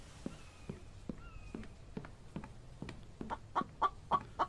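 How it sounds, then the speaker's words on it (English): A chicken in the survival video game The Infected clucks in short, repeated bursts, quiet at first and growing louder and quicker toward the end, with soft footstep-like thuds between. "I hear you, chicken."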